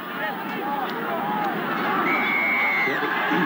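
A night-time rugby league crowd at the 1985 National Panasonic Cup quarter-final between Balmain and St George murmurs and stirs in a steady babble that swells slightly, with a commentator speaking over it.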